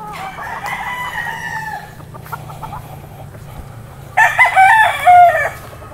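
A young rooster, a stag, crows twice on a farm, each call loud and close with soft clucking and ambient noise in between.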